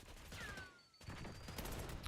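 Gunfire in a video game, faint bursts of rapid shots crackling in the distance, broken by a short lull, with no one talking.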